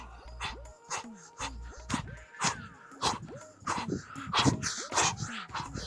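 A dog whimpers and yips in rapid high, rising whines, breaking into short barks, close and fairly loud, with faint voices under it.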